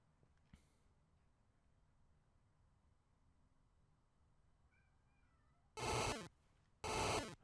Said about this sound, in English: oh, my cat wants in.